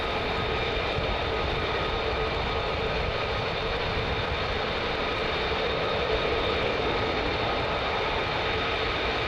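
Military jet aircraft flying at night at RAF Lakenheath, a loud, sustained engine roar with a steady whine that fills the whole stretch without pause or voices.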